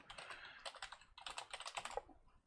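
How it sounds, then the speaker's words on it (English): Rapid clatter of keys on a computer keyboard as a Linux terminal command is typed, coming in two quick bursts of close, crisp key presses with a short pause between them and no talking. "So what you want to do is type sudo apt install."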